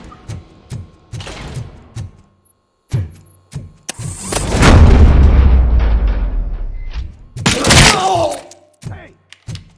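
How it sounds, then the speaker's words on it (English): Gunfire and explosive booms in the video game RoboCop Rogue City, a heavy rumbling burst mid-clip between short thuds, with character voices speaking around the shots. "Am I hearing gunshots?"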